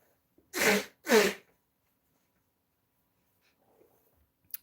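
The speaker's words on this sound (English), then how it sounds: "let me blow my nose one more time" Two quick, forceful nose blows sound close by in a quiet room, followed by near silence with a couple of faint small clicks.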